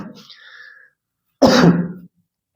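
Coughing from a man during a chemistry lecture, a short burst of about half a second, loud and close, after a stretch of quieter room sound.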